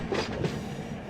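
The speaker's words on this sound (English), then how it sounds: "Yeah, there is a train on the way." CSX freight train passing on a double main line in the Run 8 train simulator, a short burst of rolling rumble with a couple of soft clattering pulses, fairly loud and close.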